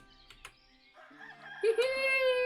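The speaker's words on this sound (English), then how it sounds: "Is that our chickens coming?" Chickens in the village-building game Ostriv cluck briefly, then a rooster crows loudly, with a few faint bird chirps; no one speaks over it.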